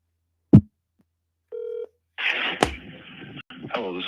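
A phone dialing out for a call, heard close: a short steady tone at about 1.5 seconds, then a busy stretch of ringing and line noise after a sharp knock from the handset.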